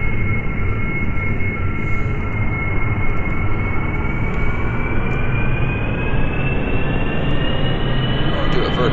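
A stock aircraft takes off from an aircraft carrier in Kerbal Space Program: a loud, continuous engine roar with a whine that rises steadily in pitch throughout.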